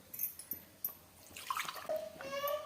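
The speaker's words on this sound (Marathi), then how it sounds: "तर अजून थोडंसं पाणी टाकायचं आहे" Water poured into a pot of vegetable curry in a home kitchen, a few light clicks and knocks followed by a short, faint splashing pour.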